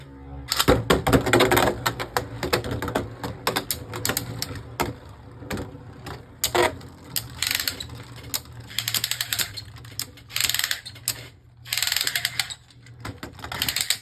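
Beyblade Burst tops launched with a Precision Strike launcher spin and clash in a stadium, a dense loud rattle of rapid clicks and scrapes with bursts of impacts over fourteen seconds.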